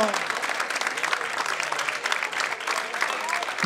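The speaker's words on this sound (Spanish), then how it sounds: "Y le damos más fuerte ese aplauso, por favor" Audience applause for a performer at a Spanish-language variety show, a dense, steady roar of clapping filling the room throughout.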